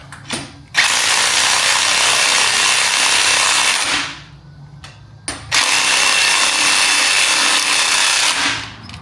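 A spring compressor being tightened on BMW X5M lowering springs, two long bursts of loud, close power-tool whirring a few seconds each, separated by a pause with brief clicks and ratcheting.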